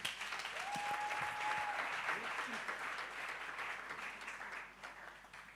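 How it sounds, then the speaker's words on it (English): Audience applause at a live panel talk event, a dense, steady wash of clapping that holds at full strength for several seconds before easing off slightly toward the end, with a faint thin tone in the background. "So can we give him another round of applause, please?"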